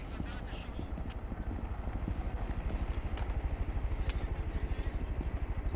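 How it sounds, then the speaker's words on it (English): Rapid, steady footsteps in a video game, a fast even rhythm of close thuds running throughout, with faint voices in the background. "I can hear footsteps."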